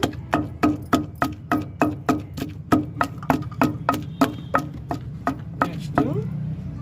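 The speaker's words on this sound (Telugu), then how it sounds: "ఎర్రగడ్డ ఇట్లా పచ్చట్లో దంచితేనే రోట్లో బాగుంటుందండి" White onions are pounded for an okra chutney in a stone mortar, a steady run of about eighteen hard, close thuds at an even rhythm, ending in a softer scraping grind.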